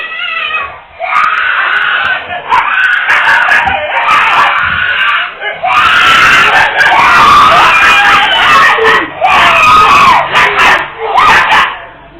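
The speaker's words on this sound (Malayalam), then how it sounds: "കുഞ്ഞിനെ മറിച്ചിട്ട് മുകളിൽ കയറി നായ" A stray dog attacks a child in a home yard: loud, frantic barking and yelping mix with a child's piercing screams and crying, and the noise stays chaotic and close throughout.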